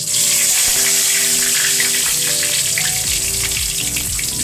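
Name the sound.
spices frying in oil for chicken biryani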